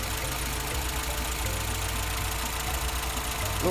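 A car engine idling steadily up close after an LPG system repair, an even ticking rumble with no voices.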